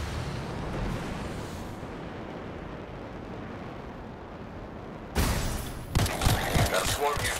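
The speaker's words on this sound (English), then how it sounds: "It'll be a contained explosion." A contained explosion in the video game Anthem erupts as a sustained, loud rumbling roar with crackling bursts, followed by a sharp blast and further heavy impacts near the end.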